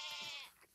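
A single short sheep bleat, a faint, wavering nasal cry lasting under a second with no talk around it.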